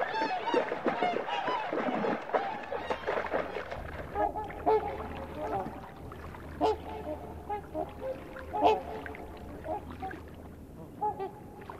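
Swans honk on a wintry river in otter country. Scattered calls repeat at moderate distance, with a busy cluster early on and sparser single honks later over quiet background.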